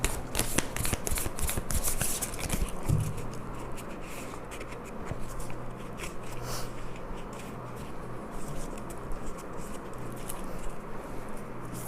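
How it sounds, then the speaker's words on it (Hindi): Oracle cards are shuffled by hand in a tarot reading, giving a continuous close riffling and sliding of card stock, busiest at the start and then steadily softer, over a low hum. "ये शफल करना थोड़े मुश्किल हो जाते हैं कार्ड्स"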